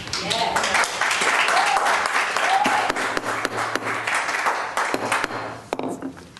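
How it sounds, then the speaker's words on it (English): At a city council meeting, the audience applauds with scattered, uneven clapping that thins out over several seconds, with voices mixed in underneath. "No applause, please."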